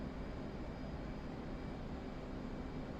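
Jet aircraft engine in the DCS flight simulator game easing off afterburner over Afghanistan, a steady, loud, broadband roar that holds evenly throughout with no voices.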